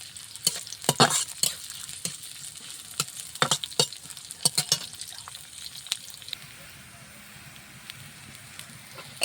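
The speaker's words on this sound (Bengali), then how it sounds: "এই জন্য কড়াইয়ে পেঁয়াজ, রসুন, তেল দিয়ে দিলাম।" Onion, garlic and oil fry in a wok with a crackling sizzle and a burst of sharp stirring clatters early on, then the sputter settles into a quieter, steady hiss; no one speaks.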